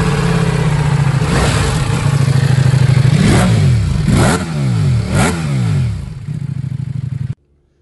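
A Ducati Multistrada V4S touring enduro motorcycle engine revs hard on the road, loud and close, with several rising and falling surges before cutting off abruptly, and no talking.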